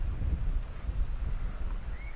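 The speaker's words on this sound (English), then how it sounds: "45 mph winds forecast today." Strong gusting wind at a fishing pool buffets the microphone in a continuous low, rumbling roar that fills the short moment.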